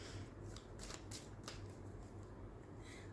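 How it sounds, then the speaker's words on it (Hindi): Tarot cards drawn and slid from a deck, soft quick papery flicks and rustles, close and faint, with no talking. "अब मैं कार्ड्स निकाल रही हूँ"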